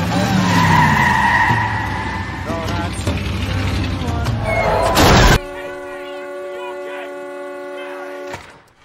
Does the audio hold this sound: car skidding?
yes